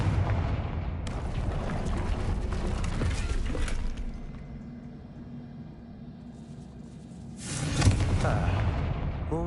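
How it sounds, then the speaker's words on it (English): A Confringo explosion spell cast in the Hogwarts Legacy video game: a loud rumbling blast with crackling debris that fades to a low rumble, then a second sharp burst of crumbling and clattering near the end. "Confringo."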